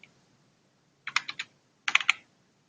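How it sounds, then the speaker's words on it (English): Two short bursts of keystrokes on a computer keyboard, a few quick close taps in each cluster separated by a pause, in an otherwise quiet room. "let me finish typing it in so you guys can see"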